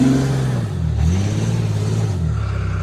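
A Chevrolet Blazer's engine revs hard and close, its pitch dipping and climbing again in repeated surges over a steady mechanical drone, with no talking.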